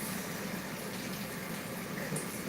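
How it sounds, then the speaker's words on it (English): Tap water running over meat being rinsed in a sink, a continuous close rushing splash with no talking. "Just rinsing these."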